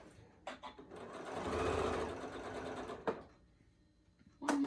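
A sewing machine stitches a quarter-inch seam along fabric for a ribbon candy ornament in one close, steady burst of about two seconds, flanked by short clicks and handling noises.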